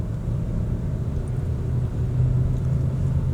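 Steady low engine rumble from inside a 2025 Kia Sportage SUV accelerating on the road, a smooth continuous drone that swells slightly toward the end, with no talking.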